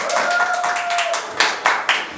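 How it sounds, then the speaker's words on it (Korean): An audience claps in short bursts after a steady tone fades, with three sharp rounds of applause close by near the end. "다시 한번 박수."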